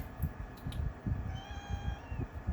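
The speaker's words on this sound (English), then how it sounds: "Maybe she'll come up and stop meowing at me" A cat meows once in a drawn-out, wavering cry over low rumbling background noise, fairly close but not loud.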